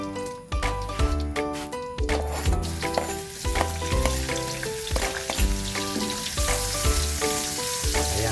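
Plenty of garlic sautéing in hot oil for beef caldereta, a loud continuous sizzle with repeated scraping and stirring strokes from a utensil against the pan, close up and without talk.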